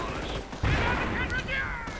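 Mortar and artillery fire in a Company of Heroes-style real-time strategy battle between Hummels and Panzer Grenadiers, a dense rumble of distant blasts and gunfire under a steady wash of battle noise, with a voice talking over part of it.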